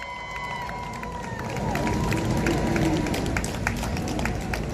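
A crowd claps and cheers at an outdoor election campaign launch rally in Seogwipo, the applause building after the first second into a steady, moderately loud wash with some tonal background sound running through it.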